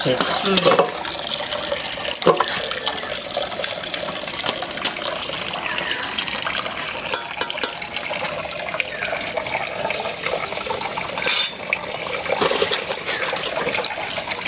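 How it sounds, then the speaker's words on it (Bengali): Cut fish being washed in a kitchen, a steady loud rush of running and splashing water throughout, with a person talking over it. "এখন হইলো মাছ পরিষ্কার করে ধুয়ে নিব"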